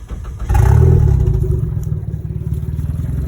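Chevy car fitted with a K24A4 engine starts up close by with a loud surge that eases into a rough, clattering idle, pulsing steadily throughout.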